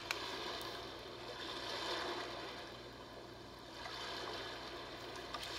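Ocean setting of a Big Red Rooster BRRC129 baby sound machine, a soft steady wash of surf-like noise slowly swelling and receding, faint and alone.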